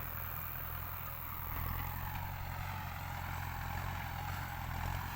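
A tractor engine runs under load while discing a field, a steady, dense, low mechanical drone with a constant rumble and no voices.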